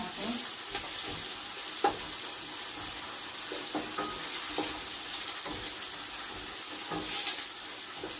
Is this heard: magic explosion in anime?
no